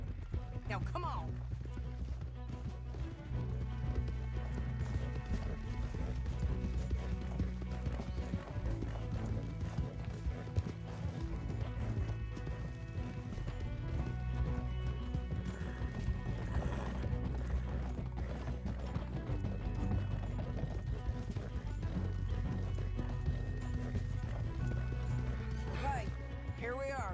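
Horses gallop in Red Dead Redemption 2, a steady drumming of hooves running under game music and voices throughout the scene, with occasional whinnies.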